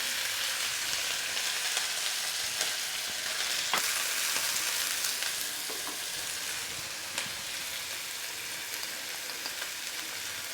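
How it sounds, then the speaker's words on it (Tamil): Chopped broad beans frying in hot oil with mustard seeds in a pan, a steady crackling sizzle throughout with occasional sharper pops and stirring clicks, close and continuous with no talk. "அரிஞ்சு வச்சுருக்க அவரைக்காய் இதில் சேர்த்துக்கலாம்."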